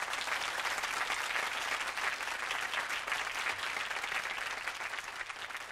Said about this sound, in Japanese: もう一度このスラッシュに拍手していただきたいと思います。